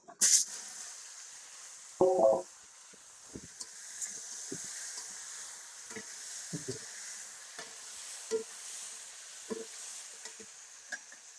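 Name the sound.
eggplant frying in leftover fish-frying oil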